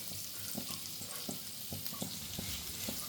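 Thinly sliced onions sauté in a pan with a steady crackling sizzle, broken by regular soft taps and scrapes of a spoon stirring them.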